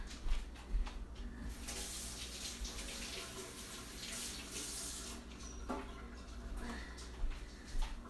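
Something is rinsed under a running kitchen tap, a continuous close rush of water with brief splashy surges as the item moves through the stream.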